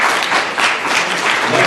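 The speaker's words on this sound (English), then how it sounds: "let's have a big round of applause for our panel" Loud, dense applause for a panel at a chamber of commerce end-of-year event, a brief burst of many hands clapping close by.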